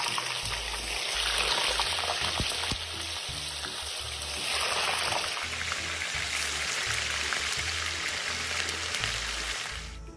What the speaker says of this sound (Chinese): 再将豆腐干放入，高火油炸